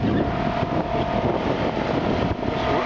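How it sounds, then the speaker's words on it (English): A restored 1963 MFG Runabout boat's engine cruises steadily through Shem Creek in Charleston Harbor, a loud, even drone with a smooth, unbroken hum and water rush, no talking. "This engine just runs smooth as a baby."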